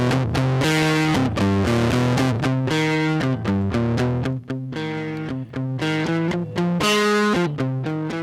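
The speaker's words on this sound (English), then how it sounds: "Drive is the amount of distortion." Synth chords pushed through the Trash 2 distortion plugin, a loud, gritty, saturated tone playing a repeating series of sustained notes with brief gaps, no talking.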